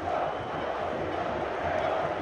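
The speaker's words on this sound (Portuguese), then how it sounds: "Festa da torcida do Flamengo aqui no Morumbi." Flamengo supporters celebrate inside Morumbi stadium after a goal during a Copa do Brasil final against São Paulo, a dense, steady roar of crowd noise with chanting that holds loud throughout.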